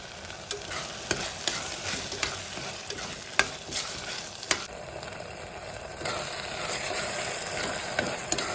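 Tomatoes softening in a pan with freshly ground ginger-garlic paste and salt give a steady close sizzle, with scraping stir strokes and small clicks throughout.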